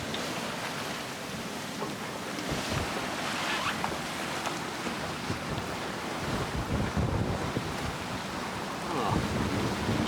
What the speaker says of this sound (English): It's very, very gusty and a bit wild in here at the moment